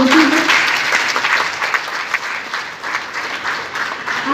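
An audience applauds to welcome a guest speaker, a translator and author, at a book launch in Udaipur; steady, loud clapping from a crowd fills the short moment.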